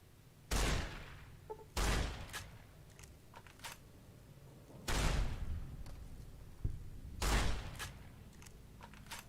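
Shotgun blasts from Fallout: New Vegas boom out four times at uneven intervals, each loud report followed by a decaying tail, with faint clicks and clatter between shots.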